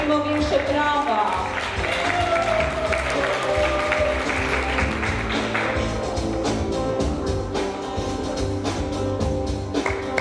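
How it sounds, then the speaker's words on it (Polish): Dense audience applause fills the hall at the Miss Polonia USA 2016 pageant, with continuous clapping under a pageant host's announcing voice and background music. "Proszę Państwa, prosimy o większe brawa."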